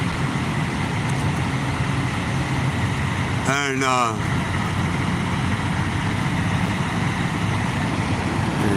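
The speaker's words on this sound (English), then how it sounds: "We're at a Love's truck stop." Heavy trucks idle at a Love's truck stop, a constant low diesel rumble close by, with a brief voice speaking over it midway.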